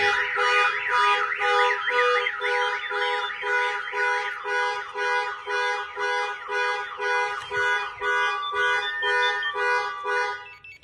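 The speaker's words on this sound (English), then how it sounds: "I was pressing this factory key fob here and it cannot turn off the alarm" A Mopar vehicle's factory car alarm, a 2022 Ram TRX or Challenger type, blares a loud cycling siren that sweeps up and down in repeated pulses, steady and close for the whole stretch.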